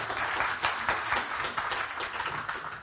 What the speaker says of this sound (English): there's an applause